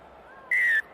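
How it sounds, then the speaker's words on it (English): A referee's whistle sounds for a high tackle during a rugby sevens match between Uruguay and the USA in Cape Town, a single sharp, steady blast of about a third of a second, loud and clear over faint crowd ambience. "whistle there when the Americans seemed to be off and running."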